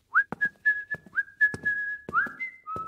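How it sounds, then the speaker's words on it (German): A cheerful whistled tune with clear rising and sustained notes, repeated in short phrases and punctuated by sharp clicks and taps, close and alone with no talk. "Fröhlich pfeifend verließ Emil das Erdhörnchen den Laden"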